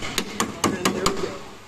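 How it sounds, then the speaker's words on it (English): Five sharp metallic hammer taps on a strut bolt during a coilover install on a 1990s Honda Civic, evenly spaced and close. "Earthquake universal hammer."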